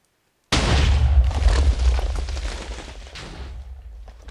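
Explosive cannon shots from a redstone-powered mech in Minecraft: a sudden heavy boom after a moment of silence, followed by a rolling burst of blasts and crackling that slowly fades out.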